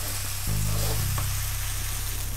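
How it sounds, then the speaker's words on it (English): Red onions with turmeric powder sizzling in a pan, a steady close frying hiss with a faint stir, running alone with no talk. "the onions have cooked down for about 5 minutes here"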